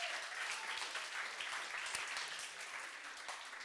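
An audience claps steadily at a school event, even and continuous applause heard at a moderate distance with no voices standing out.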